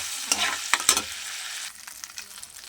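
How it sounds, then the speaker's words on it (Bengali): Prawns frying in hot oil hiss with a steady sizzle, broken by sharp scraping and clinking stirs as they are lifted out, and the sizzle quietens toward the end. "এবারে আমি চিংড়ি মাছটাকে তুলে নেব"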